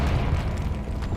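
A heavy, rumbling magical blast from the Confringo spell in Hogwarts Legacy, a short dense boom with low-end roar lasting about a second.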